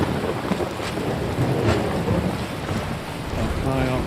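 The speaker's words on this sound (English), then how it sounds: "Thunderstorm." A thunderstorm with rain in the video game Skyrim VR: continuous loud rain hiss with deep rolling thunder rumbles swelling and fading, plus a brief tonal game sound near the end.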